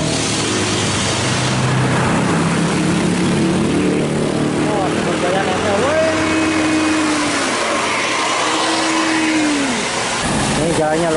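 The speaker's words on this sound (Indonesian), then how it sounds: "Ini bas pada nyalip." Buses overtake on a straight road, heard as a loud, steady roar of engines and tyres that fills the whole stretch, with a few brief tonal horn-like notes partway through.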